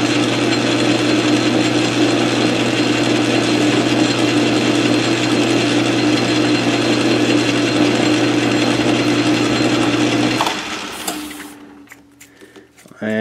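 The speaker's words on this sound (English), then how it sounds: "we're just going to give this a quick little chamfer on the outside edge there." A 13-inch South Bend lathe runs steadily as a chamfer is cut on the outside edge of a tailstock repair part, a loud continuous mechanical hum with a low drone that spins down and falls quiet near the end.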